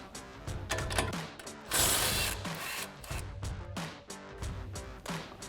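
Ratcheting clicks from a wrench loosening a 17mm nut on the front sway bar link of a 2016-2023 Toyota Tacoma, a steady run of close, repeated mechanical clicks with one louder burst partway through.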